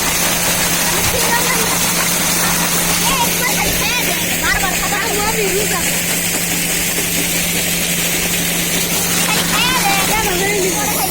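Deep tube well irrigation pump engine running with water, a steady droning hum with a low tonal line, continuous and close, while people talk over it.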